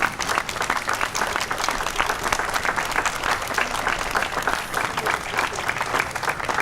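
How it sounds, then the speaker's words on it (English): Applause for a group of veterans at a Memorial Day ceremony: a crowd claps steadily and evenly throughout, a dense, sustained wash of hands with no pauses. "Please give them a round of applause."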